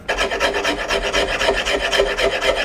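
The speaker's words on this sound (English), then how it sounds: "we'll continue to shave this down until this is a nice snug fit" A wooden hammer handle is shaved down with a rasp to fit the head snugly, producing steady, close rhythmic scraping strokes at an even pace throughout.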